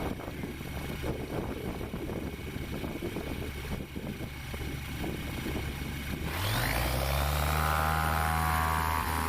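A STOL light aircraft at the Swamp STOL short takeoff and landing competition in Jennings, Louisiana, engine droning under wind and crowd noise, then swelling to a loud, steady full-power roar as it takes off.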